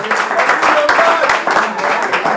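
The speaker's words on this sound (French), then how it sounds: "On va applaudir très fort pour Madame Gloriane qui va remettre un prix." Applause from a live audience at the final of a show competition as a presenter steps up to hand out a prize, a dense, steady wash of clapping at full level throughout with a faint voice underneath.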